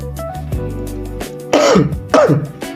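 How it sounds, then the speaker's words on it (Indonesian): Two harsh coughs, close and loud, come one after another over faint background music. "saya lagi batuk"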